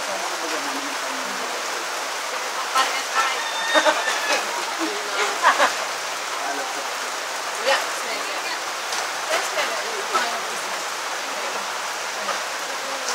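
Steady rain hisses and patters on a surface, with scattered louder drops and muffled voices in the background.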